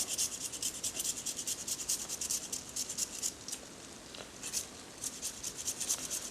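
Hard parmesan cheese is grated by hand over pasta with pork, giving quick rhythmic rasping strokes, close and fairly quiet, repeated steadily without any talking.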